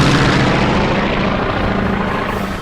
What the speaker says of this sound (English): used a radial engine with fewer cylinders. Was designed for the largest amount of power in the smallest possible package. This cutting-edge design gave it more of a thumping sound,